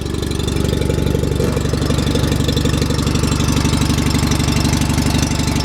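A small engine that was just choked and slightly flooded runs steadily up close, with a loud, continuous low rumble and a fast, even knocking pulse throughout and no talking.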